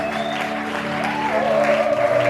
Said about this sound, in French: Est-ce qu'on peut encore acclamer et pousser les cris de joie pour la gloire de Jésus?